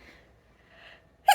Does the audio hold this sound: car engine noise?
no